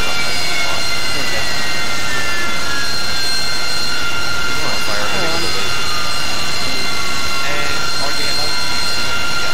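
Harrier jet engine spooling up during a cold start in the DCS World flight simulator, a loud steady whine with rising and falling tones, with people talking over it.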